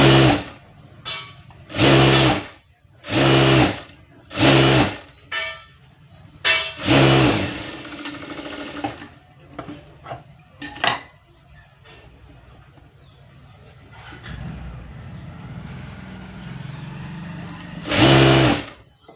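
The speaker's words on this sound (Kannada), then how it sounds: "ನೆಕ್ಸ್ಟ್ ಇವಾಗ ಫ್ರಂಟ್ ಪಾರ್ಟ್ಗನ್ನು ಕೆಳಗಡೆ ಸ್ಟಿಚ್ ಮಾಡ್ಕೊಳ್ಳಿ ಒಂದ್ಸರಿ" A domestic sewing machine stitches the front part of a boat neck blouse in several short loud bursts, stopping and restarting with pauses between runs, close up and without speech.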